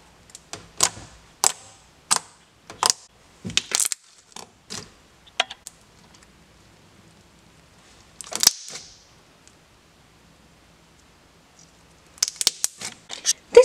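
Thick, glossy, clicky slime is squished and stretched by hand, producing sharp, crisp clicks and snaps in quick bursts, close and alone, with a pause in the middle.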